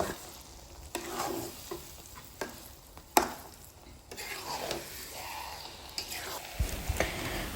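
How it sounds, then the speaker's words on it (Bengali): Puffed-rice laddu mixture being stirred and cooked down in a pan on a gas stove, with soft scraping strokes and a low sizzle, punctuated by a few sharper knocks of the spoon against the pan, close and fairly quiet. "এভাবেই নেড়ে চেড়ে আরও 5-6 মিনিটের মতো জাল করে নিতে হবে"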